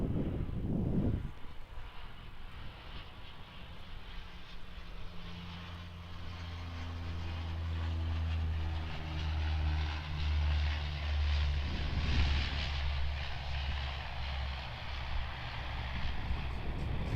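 A propeller airliner lands at Perth Airport, its engine drone loud and steady with a falling tonal whine as it rolls out along the runway.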